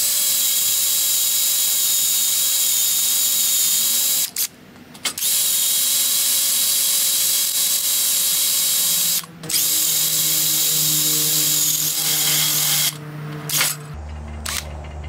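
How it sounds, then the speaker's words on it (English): Power drill boring a hole through a flywheel ring gear during ring gear replacement and clutch installation, a steady high whine running throughout with several brief pauses and a lower-pitched grinding stretch near the end, no talking. "Okay, so I got this hole drilled."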